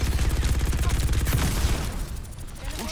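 Mauga's heavy gun in Overwatch 2 fires a rapid, sustained burst of closely spaced shots, loud and dense for most of the stretch before easing off into game noise near the end.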